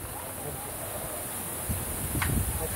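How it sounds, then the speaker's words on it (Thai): Strong cold wind blows outdoors on a winter morning, a constant broad rushing roar with gusts, buffeting the microphone, while faint voices sound in the background. "ลมบักยางแฮงฮะ"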